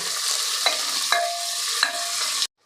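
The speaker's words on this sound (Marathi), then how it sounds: "आपल्याला हलकासा सोनेरी रंगावर कांदा परतून घ्यायचा आहे" Sliced onions sauté with salt in a pan, giving a bright continuous sizzle broken by a few sharp spatula clinks and scrapes, close up, ending abruptly in silence.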